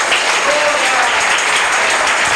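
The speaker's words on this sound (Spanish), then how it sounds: "Dale un aplauso al Señor." A church congregation applauds during a preacher's service, a loud, sustained wash of clapping filling the hall, with a voice partly audible through it.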